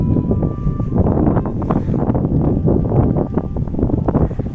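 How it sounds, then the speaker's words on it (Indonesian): Wind blows in a park right beside the sea in Zhoushan on a cool day, buffeting the microphone in heavy, irregular gusts and rumbles that last the whole time, with no voices. "Dan berangin juga."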